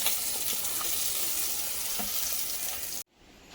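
Korameenu fish fry steadily in hot oil with a loud, dense crackling sizzle that runs unbroken for about three seconds and then cuts off abruptly, leaving near silence.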